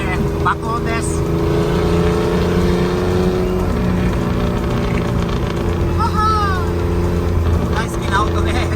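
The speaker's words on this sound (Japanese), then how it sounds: "Z はすごいいい音するんだよね。 爆音です。" Nissan Fairlady Z (Datsun) engine roaring loudly and steadily up close, a continuous throaty rumble with people talking over it.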